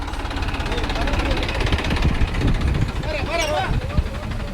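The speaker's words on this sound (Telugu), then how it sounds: "ఇన్ని పదుల సంఖ్యలో ట్రాక్టర్లు తోలుతున్నారు కదా," Dozens of tractors hauling soil rumble with a low, steady engine throb and knocking vibration nearby, while someone talks over the noise.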